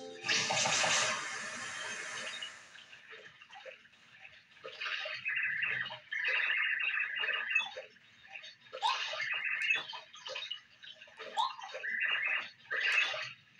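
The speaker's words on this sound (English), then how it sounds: "Water coming." A bright burst of rushing, splashing water in Paper Mario opens, then gives way to quick, chirpy electronic game sounds repeating in short bursts.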